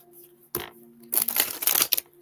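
Playing cards being shuffled in a tense interrogation scene: one short riffle burst, then a longer, louder flurry of crisp riffling and snapping cards, close by, over a faint steady hum.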